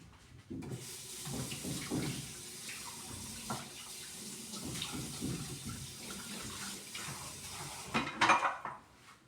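Ingredients rinsed under a running kitchen tap, water splashing steadily into the sink with dishes and utensils clattering alongside, a louder splash near the end.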